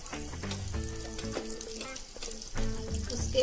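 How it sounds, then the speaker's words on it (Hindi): Seeds drop into hot oil in a pan and sizzle, giving a close, continuous crackling hiss with a few clinks and scrapes, which grows louder toward the end. "हमारा तेल गर्म हो चुका है, हम अब इसमें सबसे पहले मोरी के दाने डालेंगे"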